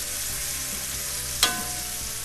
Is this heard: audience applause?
no